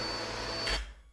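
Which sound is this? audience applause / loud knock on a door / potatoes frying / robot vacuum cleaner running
robot vacuum cleaner running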